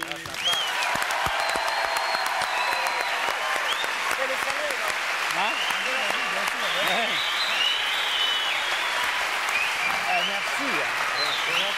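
A studio audience on a French TV show applauds with sustained clapping and cheering, loud and steady throughout, while a voice speaks briefly over it.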